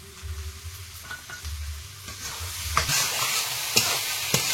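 Spice paste of turmeric, chili powder and ground tomato frying in a pan, a soft sizzle rising midway with a few sharp spoon scrapes, quiet and close.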